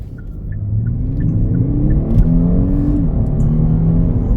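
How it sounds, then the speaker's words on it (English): A 2021 Genesis G90 with a turbocharged engine accelerates smoothly, a steady low engine rumble rising in pitch as it builds speed, heard close from inside the car with no talking. "You can feel the turbos kicking in when they should, but it's accelerating so smooth."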